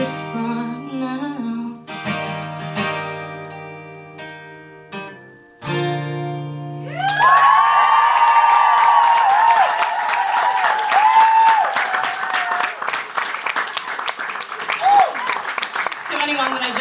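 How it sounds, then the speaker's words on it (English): An audience at a live music performance at Slayfest 2025 breaks into loud, sustained clapping and cheering after a quieter passage of music, the applause filling the room and continuing to the end. "But now I'm performing it and people are clapping"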